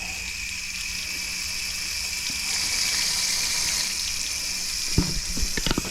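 Water rushes steadily from a drain valve on a well water pressure tank being emptied, a continuous hissing gush held at an even level throughout, with a few faint knocks near the end.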